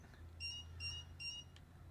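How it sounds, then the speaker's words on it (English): Three evenly spaced electronic beeps sound from the NASCAR 25 racing video game, thin and fairly faint over a low steady engine-like drone, with no talking. "You hear that beep? You hear that beeping right there?"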